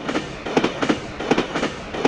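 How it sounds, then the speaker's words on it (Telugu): Passenger train on the line near a railway station, a continuous rumbling roar with rhythmic clattering wheel beats and bursts of metallic rattle, loud and close without voices. "ఇంకా ట్రైన్ అయితే వచ్చింది."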